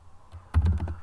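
Keys on a computer keyboard are struck in a quick burst of several close clicks, preceded by a few softer taps.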